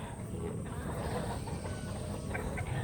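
Pullet chickens cluck and murmur faintly amid a steady background hum, with a few soft calls but no clear crowing.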